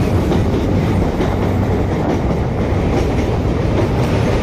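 Bandel–Naihati local train crossing a river bridge, a loud continuous rumble of wheels and carriages with rhythmic clattering, heard from on board.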